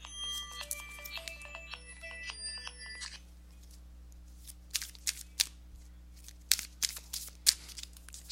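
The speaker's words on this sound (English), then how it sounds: "Phone's going off." A phone ringing indoors, a few seconds of bright electronic melodic tones, then quiet low hum followed by sharp card-shuffling and handling sounds.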